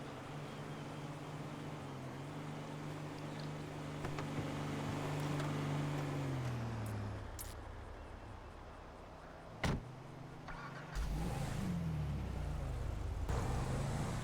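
A stolen car drives through a roleplay video game. A steady engine drone falls in pitch around seven seconds, a sharp thump lands near ten seconds, then the engine rises again, with no talking.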